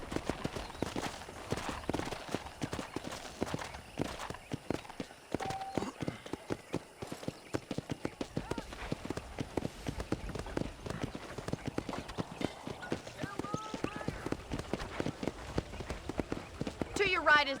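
Steady clip-clop of horse hooves in a walking rhythm, close and continuous, with a soft game-like ambience underneath, on a ranch in the video game Red Dead Redemption.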